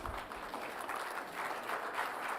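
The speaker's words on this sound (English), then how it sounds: "Another big round of applause, please." Audience applauding at a swearing-in ceremony for new judges held by Ghana's president, a dense, even wash of clapping heard from some distance, with no break.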